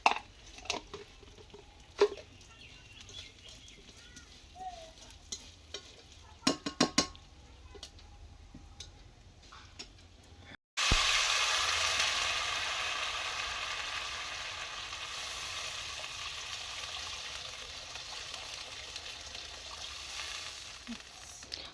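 Quiet clinks of utensils in a pan give way to a sudden loud, steady sizzle as mango dal with turmeric fries and is stirred, the hiss easing slightly over time.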